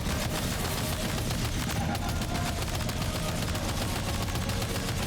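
Sustained video-game gunfire as Sam shoots at a boss in Death Stranding 2, a dense, continuous rattle of rapid shots that stays loud and steady throughout with no voices.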